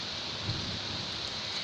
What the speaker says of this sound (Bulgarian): Как лошо вали навън.